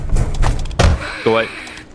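A door opening and closing in a SpongeBob fan video game set in Bikini Bottom, a solid thunk and slam mixed with a player's voice talking over it.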